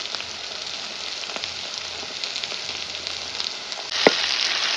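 Onions frying in a home kitchen pan in Jaffna, a steady close sizzle with soft crackle, swelling louder near the end as more heat or stirring kicks in.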